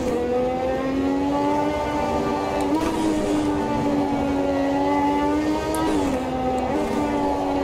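A McLaren MP4/4 Formula One car held in third gear in the Automobilista 2 racing game at Suzuka, its engine giving a steady, buzzing high-revving whine with a couple of brief dips and recoveries in pitch, loud and continuous.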